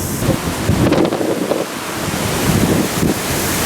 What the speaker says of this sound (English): Look at these waves slapping against the base of the cliff down here.